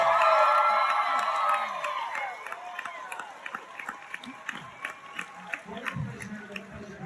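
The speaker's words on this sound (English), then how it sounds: "Give a huge round of applause." Convention panel audience at a Lord of the Rings event at Tampa Bay ComicCon 2024 bursts into loud applause and cheering with whoops, swelling at first then settling into scattered claps and shouts.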